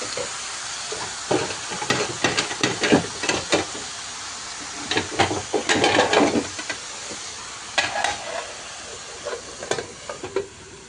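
Fried fish and bottle gourd get stirred in a pan in a home kitchen, with a soft sizzle and clustered scraping clatters of the spoon coming and going in bursts between quiet pauses.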